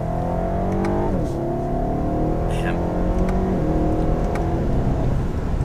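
A 2020 BMW 750i xDrive accelerates hard up a ramp onto a highway, its engine drone rising steadily in pitch through gear changes, heard from inside the cabin as a constant loud hum.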